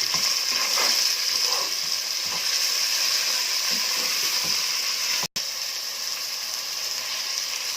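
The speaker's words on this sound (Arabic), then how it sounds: "نبدا بقى نقلب كده عشان كلها تتشوح، تاخد لون واحد" Peas and meat sauté in a pan, a continuous loud sizzle with intermittent scraping stirs, broken by one brief dropout.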